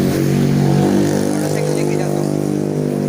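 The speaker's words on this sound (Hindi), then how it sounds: "मोटरसाइकिल लेके जाता हूँ, रास्ता." A motorcycle ride along a main road toward a house in Indonesia; a steady, loud engine drone runs close and continuous throughout, with no noticeable breaks.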